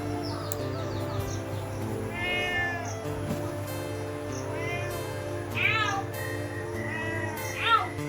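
A cat meows again and again in a plaintive, rising tone, close by and clear, over a low steady hum in a home.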